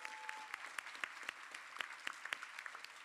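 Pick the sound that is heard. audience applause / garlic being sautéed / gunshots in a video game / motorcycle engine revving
audience applause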